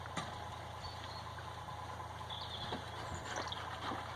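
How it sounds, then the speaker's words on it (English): A tractor engine idling outdoors over there, a low, steady, faint mechanical rumble in the background, with light scattered clicks and knocks nearby. "Just as I press record, the tractor starts over there"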